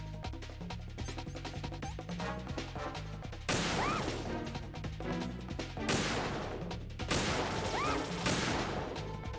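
Gunfire in Metal Gear Solid 2 plays over a musical background, with scattered shots early on and then several loud bursts of shooting that crash in and fade one after another.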